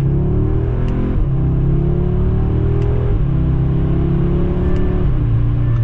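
A facelifted Audi S3 with a 2.0 TFSI engine accelerates hard in Dynamic Plus mode, its loud engine note climbing through the revs in three rising sweeps, each broken by a quick upshift, with gears held high.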